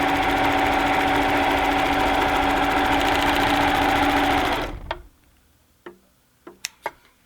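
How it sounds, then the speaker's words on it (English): An overlocker cuts and sews hand woven cloth in a loud, steady mechanical whir for several seconds, then stops abruptly, leaving only a few quiet clicks and taps. "That way you're letting the overlocker do the cutting for you."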